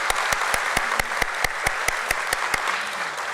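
An audience at a stock exchange listing ceremony claps in a big round of applause, dense and sustained with sharp rhythmic claps standing out throughout, and nobody speaking.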